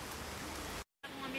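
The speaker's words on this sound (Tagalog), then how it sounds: "kusog kayong ulan guys" Heavy rain pours in a continuous dense roar that breaks off briefly to silence, then resumes with a faint voice under it.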